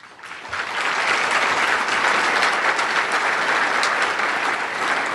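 An audience at a fundraising banquet claps together, the applause swelling within the first half second and holding as a dense, steady wall of hand claps for several seconds without dying down.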